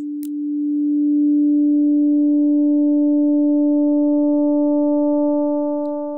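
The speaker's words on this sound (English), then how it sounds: "if I have a sine wave here and I slowly bring it up" Steady FM synthesizer sine wave oscillator holding a pure, loud tone with faint overtones that fade in slowly, alone without any voice or other sound.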